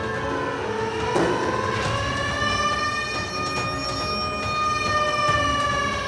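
A civil defence siren sounds at Delhi Public School in Ruby Park, Kolkata, during a wartime safety mock drill: one steady, sustained wail with stacked tones, heard from a moderate distance over a low background rumble.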